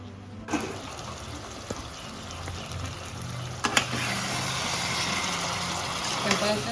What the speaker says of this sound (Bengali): আবার সেম প্রসিডিউরে অল্প জল দিয়ে দিবেন থালার উপরে